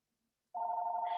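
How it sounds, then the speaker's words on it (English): A phone rings during an online training session on paid family and medical leave: a steady electronic ringtone starts abruptly after a brief silence and continues clearly and alone, with a faint higher chirp near the end. "Sorry, my phone is ringing."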